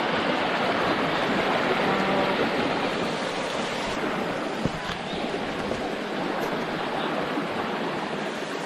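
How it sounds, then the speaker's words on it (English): A flowing stream near TK Falls outside Bangalore rushes steadily and close by, a dense, even wash of running water that fills the whole stretch without pause. "So I found an open stream like this after a while of walking."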